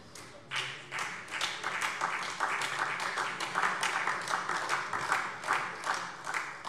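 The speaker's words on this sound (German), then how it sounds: "Applaus" A parliament plenary chamber breaks into applause, a rolling mass of hand claps with a steady, slightly pulsing rhythm, moderately distant and continuing throughout.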